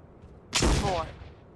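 A single loud burst of gunfire from the video game Jurassic Park: Trespasser, sharp onset and a short decaying tail, heard alone.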